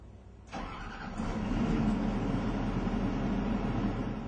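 A John Deere Hitachi excavator engine starts: a brief starter crank, then the diesel catches and settles into a steady, low idle rumble, close and alone.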